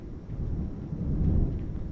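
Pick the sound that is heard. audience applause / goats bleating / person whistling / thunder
thunder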